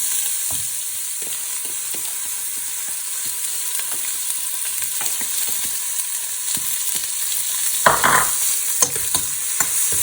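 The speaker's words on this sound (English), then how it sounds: "And then we will add the rest of our onion, garlic, chili." Onion, garlic and chili fry in hot oil with fenugreek seeds, a steady bright sizzle broken by repeated scraping stirs of a spoon against the pan, with a louder clatter near the end.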